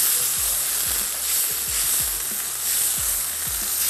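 Chicken mince with ginger-garlic paste fries steadily in a pan, giving a continuous bright sizzle with soft scraping stirs every half second or so, close and alone.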